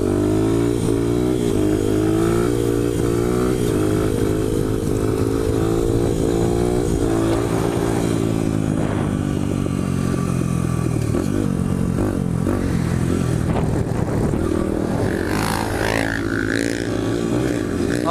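A dirt bike engine revs loudly while riding, its drone rising and falling with throttle changes and clattering mechanical noise, close and continuous throughout.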